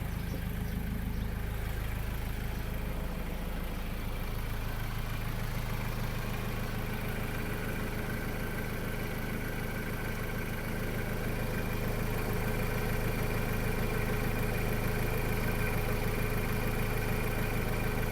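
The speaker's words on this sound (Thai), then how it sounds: "เสียงเครื่องเงียบๆ นะครับ" A 2013 Ford Ranger Hi-Rider 2.2 diesel idling with the hood open, a low steady hum with a faint even vibration, quiet and unbroken throughout.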